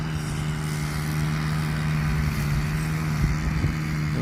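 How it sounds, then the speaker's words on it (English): A string trimmer runs outdoors at a park during a dog outing, giving a steady, unbroken motor drone with no speech over it. "we got the weed whacker over here making noise"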